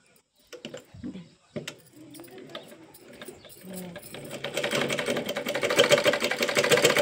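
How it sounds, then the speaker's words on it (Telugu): A sewing machine stitches slowly to join two fabric pieces. A few scattered knocks and faint sounds open the passage, then a rhythmic mechanical whir builds and grows louder and steadier toward the end. "ఎందుకంటే స్పీడ్ కట్టే మళ్ళీ వీడియోలో సౌండ్ ఎక్కువ వస్తుంది, అందుకే మెల్లగా కుడుతున్నాను."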